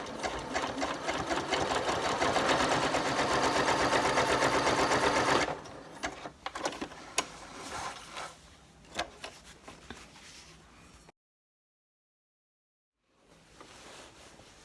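A sewing machine runs in a steady, dense whir for about five seconds while stitching bar tags across a cargo pants back pocket, followed by short clicks and handling noises, a brief silence, then faint activity.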